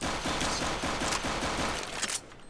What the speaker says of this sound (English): It's just Mo shooting a wall.